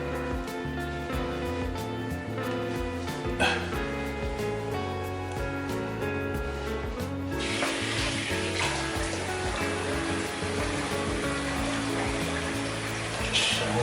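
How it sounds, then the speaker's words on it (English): Water runs to rinse a shaving brush, a soft trickle that swells into a steady, fuller rush of running water midway and continues to the end, with no talking. "Just rinse off a bit."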